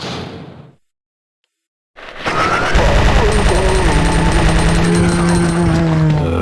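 Rapid, sustained gunfire in the video game Resident Evil 2 bursts in loudly after a short silence and keeps up a dense, continuous barrage under tonal game sounds.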